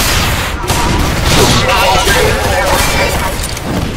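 Pistol gunfire in the video game Shadow Warrior 2, a loud dense burst of rapid shots mixed with chaotic combat effects throughout.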